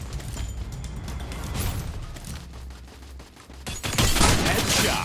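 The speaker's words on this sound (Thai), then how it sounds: "แบบใช้ปืนหลักยิง" M14 rifle in the Free Fire game firing in rapid bursts, a crackling rattle of shots with mechanical clicks, growing louder and denser toward the end.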